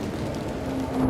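Rain and rumbling thunder in the Dungeon Siege video game, a dense, steady downpour with a deep low roll that grows slightly louder toward the end of the brief moment.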